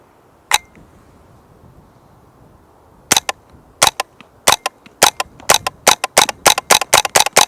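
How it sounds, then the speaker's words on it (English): A rimfire rifle's bolt release is pressed and the bolt slides forward to load a round: a single sharp metallic snap, a pause, then a quick run of crisp, close clicks and clacks. "when I press that the bolt will slide forward, load the round, and it's ready to fire"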